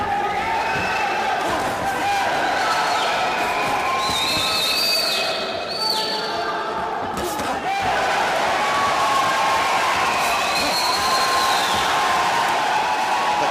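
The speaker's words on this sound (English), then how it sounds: "Crowd egging on the local favourite, Sanjeet of Rohtak." A boxing arena crowd at a World Series of Boxing bout between Indian Tigers and Astana Arlans roars steadily for local favourite Sanjeet of Rohtak, with shouts and whistles rising over a dense, continuous wall of cheering.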